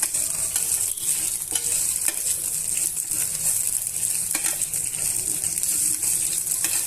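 Peanuts and tamarind for peanut chutney are stir-fried in a pan, giving a steady bright sizzle with frequent scraping stir strokes and small clinks. The sound is continuous and close, with no talking.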